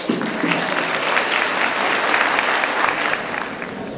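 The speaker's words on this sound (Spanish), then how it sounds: "Un aplauso, por favor." An audience claps steadily at a school Christmas festival, a dense, even round of applause lasting throughout without any voices.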